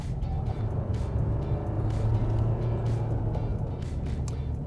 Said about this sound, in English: The 2-liter diesel engine is noisy to begin with, but it evens out as the speeds get steady.